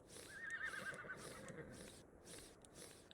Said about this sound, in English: So these zebras sound like horses.